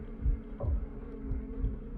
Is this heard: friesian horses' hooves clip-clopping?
no